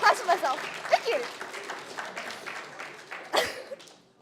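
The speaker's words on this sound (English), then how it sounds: "I never imagined I'll get clapped for throwing a chocolate bar" Lecture hall audience clapping for a lecturer, a scattered burst of applause that is loudest at first, tapers off, then swells briefly near the end, with the room's murmur underneath.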